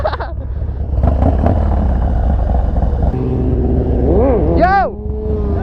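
Harley-Davidson Dyna motorcycle engine roaring loud and close during a wheelie, sustained throttle with rising and falling revs through gear changes near the end, under excited shouting voices.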